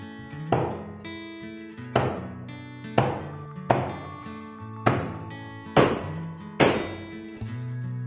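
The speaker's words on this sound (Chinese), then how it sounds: "洗好的全鱼切小块" A knife chopping a whole cleaned fish into small pieces, about eight heavy, evenly spaced thunks on a cutting board, each ringing briefly, close and clear over soft background music.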